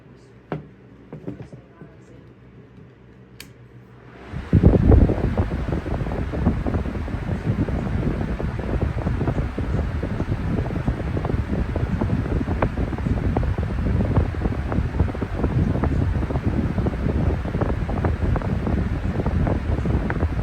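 A 12-inch TPI industrial high velocity fan switches on after a few quiet seconds and settles into a loud, steady rushing roar running on high speed, close and continuous.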